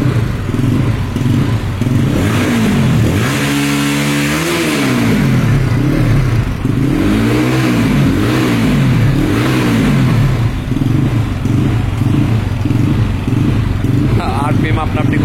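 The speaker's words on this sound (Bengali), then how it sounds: "আরপিএম আপনা আপনি কমা বাড়া করছে নিজে নিজে।" LiFAN KPT 4V motorcycle engine idling on its own with the RPM surging up and down, pitch sweeping in repeated rises and falls, loud and close and continuous, with faint talk in the background.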